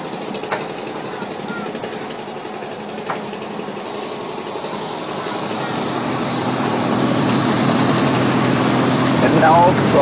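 Helicopters fly overhead, a broad, rumbling rotor and engine roar that grows steadily louder, with a faint voice and a couple of brief knocks in the background.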